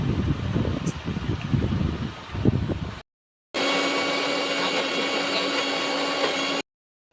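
Mixer grinder jar churning beetroot chutney, a loud steady whirring grind that runs for a few seconds, cuts out, then restarts at a constant buzzing pitch before stopping.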